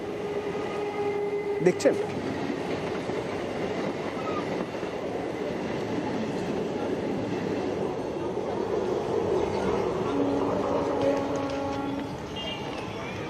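A train running through a busy suburban railway crossing at Jadavpur station, a continuous rumbling roll of wagons with rail clatter and a brief horn-like tone, under someone talking and crowd noise.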